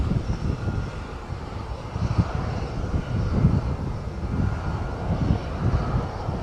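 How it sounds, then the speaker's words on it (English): A private jet passes overhead near Jersey in the Channel Islands, a broad, rumbling roar that swells and holds steady at a moderate distance, mixed with light wind noise. "somebody off in their private jet there."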